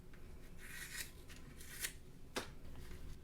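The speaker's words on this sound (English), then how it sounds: "We'll remove our tape." Quiet rustling and brief peeling scrapes as tape is pulled off a handmade faux leather wallet, close up, with a few short sharp rips.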